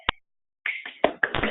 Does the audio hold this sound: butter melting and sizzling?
no